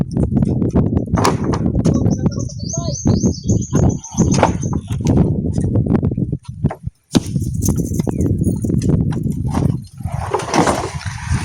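Hooves clip-clop steadily amid a busy outdoor scene, with birds chirping and occasional knocks in the background.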